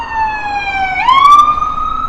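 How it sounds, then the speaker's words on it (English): Ambulance siren passing by on a New York City street: a loud, close, sustained wail that holds steady, then sweeps upward in pitch and stays high over a low traffic rumble. "We'll wait till the ambulance goes by."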